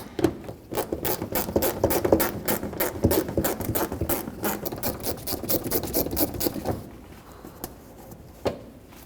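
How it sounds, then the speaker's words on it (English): A hand ratchet rapidly clicks while removing 7mm fender liner bolts on a 2007-2010 Chrysler Sebring, a close, dense run of metallic pawl ticks in bursts, then pausing with a final click. "I'm going to start by removing these two 7mm bolts that hold the fender liner onto the bumper cover"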